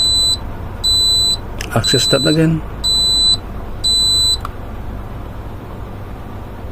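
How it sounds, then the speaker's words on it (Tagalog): A Dixell temperature controller sounds a P2 sensor alarm: short, loud, high electronic beeps repeating in a steady on-off rhythm over a low background hum, with a person briefly speaking midway. "So I got a P2 alarm."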